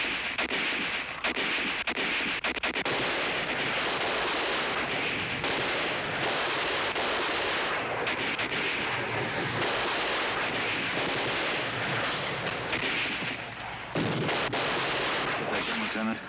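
Artillery fire in a 1965 World War II television drama, a continuous barrage of deep booms and crackling gunfire that stays loud throughout, with a sudden heavy blast near the end.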